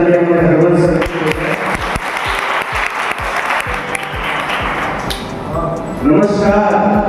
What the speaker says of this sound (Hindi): एक जोरदार ताली हमारे हरवंश सर